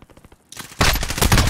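Gunfire in a quarantine survival video game: a quiet stretch of soft shots gives way to a loud, dense burst of rapid automatic fire that runs continuously to the end.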